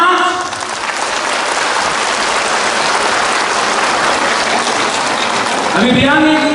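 A crowd claps with their fingers in a dense, loud, sustained patter that builds and runs continuously, and a voice cuts in near the end.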